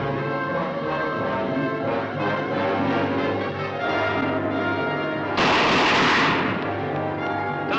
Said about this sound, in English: Those bullets bounce off like baby shot on a stone wall.